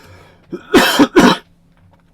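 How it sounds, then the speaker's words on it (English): Two harsh, close coughs in quick succession, loud and abrupt, with quiet before and after. "I knew coughing would come into this at some point."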